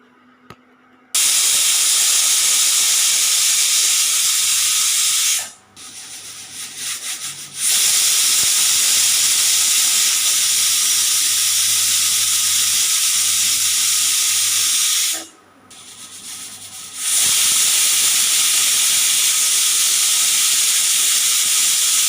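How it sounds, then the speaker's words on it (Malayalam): Steam hisses loudly and steadily from a pot of kandari pal chakka jackfruit on the stove. The broad rushing hiss cuts out briefly twice, leaving a low bubbling, before resuming at full strength. "സ്റ്റീം വരെ നമുക്ക് കാത്തിരിക്കാം."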